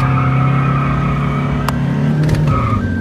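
Two Toyota Fortuner SUVs, a 2022 automatic and a 2019 manual, rev and accelerate hard side by side in a drag race, a loud, steady engine drone with rising pitch near the end.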